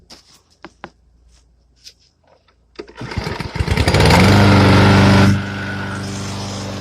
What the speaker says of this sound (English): You just pull that cord right there, and she cranks up every time.